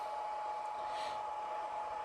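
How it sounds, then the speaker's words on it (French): The cooling fan of a Hobbymate Speed H6 battery charger runs with a quiet, steady whir and a thin constant tone, unchanging and close by, with no talking. "Évidemment, j'ai relancé le ventilo."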